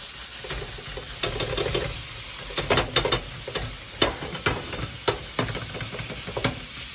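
Ground beef, 90-10 lean, sizzles steadily in a big pan already hot on the stove, with a broad hiss and several sharp scraping stir clatters standing out toward the end; close and moderately loud, with no talk.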